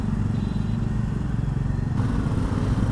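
A Kawasaki Ninja SX1100 motorcycle rides along the Mumbai–Goa highway, its engine droning steadily with a low throbbing note and road noise, close and continuous for a few seconds.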